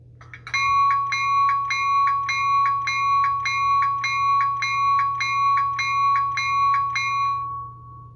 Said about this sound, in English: Here's the bell on 8099.